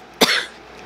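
A single short cough from a person recovering from strep throat or a sinus infection, close and clear, followed by quiet room tone.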